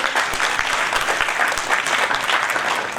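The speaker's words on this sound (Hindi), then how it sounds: "आप सभी के लिए बहुत तालियों से आप सबका स्वागत करें आप" Dense, continuous applause from a large audience at an education charity festival fills the whole stretch evenly, a loud wash of many hands clapping at once with no voices standing out.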